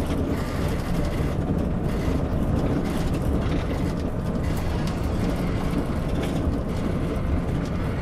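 A bus rolls steadily along a road during a driving lesson on cornering, with a continuous low engine and road rumble that holds at an even loudness throughout and no talking.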